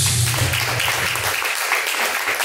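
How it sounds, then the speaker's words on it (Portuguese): A church congregation claps in praise to God during a live worship service, a loud dense burst of applause filling the whole stretch with a low rumble at the start. "As palmas que louvam a Deus"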